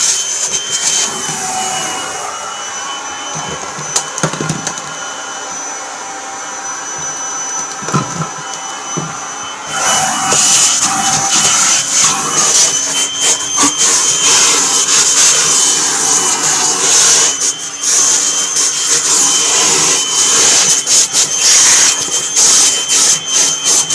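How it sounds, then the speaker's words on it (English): A Kirby Generation 4 vacuum cleaner (80th Anniversary edition) runs with just its vacuum hose attached, a loud, steady motor whine that surges louder partway through, with clattering bumps from the hose. "And this is with just the vacuum hose."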